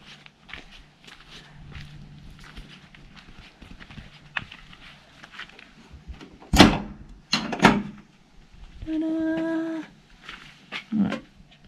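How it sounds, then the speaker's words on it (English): The door of a trailside toilet on the Bibbulmun Track hiking trail opens with a drawn-out tonal creak, preceded by footsteps and sharp knocks or thuds, all close by and with no talking. "I'll leave that door open"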